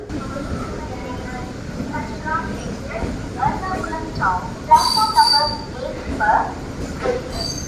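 A passenger train running about fifteen minutes late after leaving Ernakulam Town station: a steady close rumble with rhythmic wheel clatter and occasional squeals, with voices talking over it.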